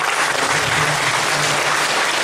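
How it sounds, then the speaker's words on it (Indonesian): A church congregation at a launch event applauds their pastor, with loud, sustained clapping from a large crowd that fills the room evenly from start to finish. "Kita kasih aplaus untuk Bapak Pendeta Erik."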